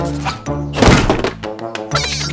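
A wooden log gets crushed in the Attack Draw Line puzzle game: a loud, close hollow thunk with a short woody crunch, set among bright game tones and chimes.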